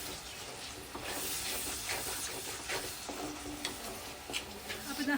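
Onions hiss and sizzle steadily in a pan while being sautéed for Kerala-style spicy beef roast, a close, continuous frying sound with occasional stirring scrapes and no talk.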